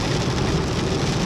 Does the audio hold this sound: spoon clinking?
no